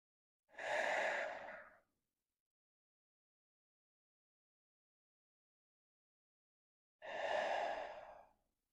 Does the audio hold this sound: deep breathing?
yes